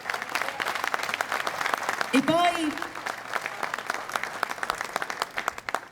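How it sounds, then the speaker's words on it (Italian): Crowd applause fills an outdoor square in Jesolo at an evening public event, dense steady clapping throughout, with a brief spoken voice over the hands midway. "Facciamo sentire anche un applauso."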